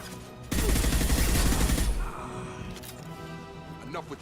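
Gunfire from fire ammo in the video game Mass Effect 2 comes as a loud, dense burst of rapid shots lasting about a second and a half. Fainter game effects and voices follow.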